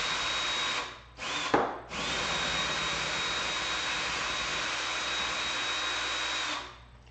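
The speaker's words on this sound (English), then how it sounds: "When you're using a power tool on these plastic pieces like that" A power tool whines loudly on plastic parts during a Tarmo4 teardown, briefly stopping and restarting with a short clatter, then running in a long steady high-pitched drone before cutting off.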